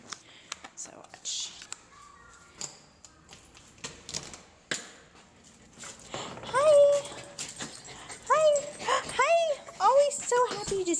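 Several dogs whimper and whine eagerly as they greet their owner indoors. High, rising squeals come in quick repeated bursts after clicking steps and taps, and grow louder toward the end.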